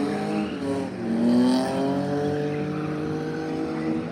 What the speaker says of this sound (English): It's a drift day here, organised by Malks and Minnie and the rest of the Norfolk Arena drift team crew.